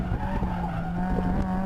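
A race car at an autocross slides into oversteer, its tires squealing in a sustained, sharp tone over the engine's steady drone, close and continuous for under two seconds.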